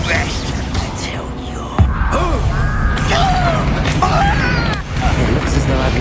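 A Confringo fire spell from Hogwarts Legacy bursts with a sudden low boom, followed by whooshing magical effects and continuous busy game sounds.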